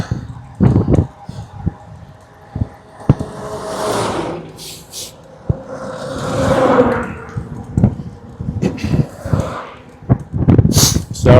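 Repeated sharp sniffs and snorts through the nose while cycling in wind, close and loud, mixed with breathy gusts and rustling.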